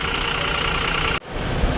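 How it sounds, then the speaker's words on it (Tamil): Rear engine of a Volvo 9600 multi-axle coach running with a steady, dense mid-range drone and mechanical vibration, heard close up, briefly dropping off for an instant before resuming. "Volvo பஸ்ஸோட rare engine சவுண்டுங்க"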